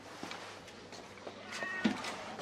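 A cat meows a few times, fairly close, in a quiet room with low background hum; the calls are soft and short, spread across a couple of seconds.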